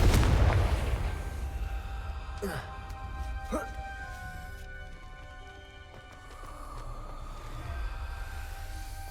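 A Confringo spell explosion in the Hogwarts Legacy video game, with a loud low boom at the start that fades into a rumbling tail and scattered debris-like crackles, while a voice speaks over it.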